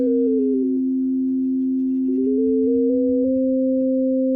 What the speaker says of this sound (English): two sine waves playing an octave away from each other.